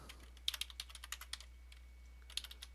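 Computer keyboard keys are struck in two short bursts of quick, light clicks separated by a pause, quiet and close against a faint low hum, with no voices.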